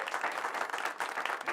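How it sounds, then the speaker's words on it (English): Studio audience on a late-night talk show clapping to welcome a guest, a brief, lively burst of applause with uneven, pulsing claps and no talking. "You can give her a round of applause."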